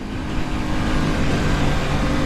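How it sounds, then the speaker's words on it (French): Road traffic rumbles around a rider testing an Aprilia RS 660 motorcycle, a dense, loud, steady engine and wind roar with no clear breaks and no talk. "Il y a de la circulation"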